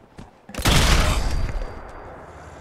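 A single loud, booming Gauss rifle shot in Fallout 4, a sharp crack with a heavy blast that rings out and decays over about a second, preceded by a faint click.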